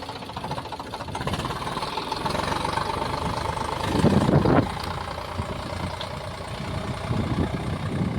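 A farm tractor engine idling nearby, a steady low knocking rumble throughout, briefly louder midway, with no talk.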